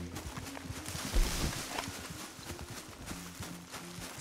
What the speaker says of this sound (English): Guy's gonna run away with my horse.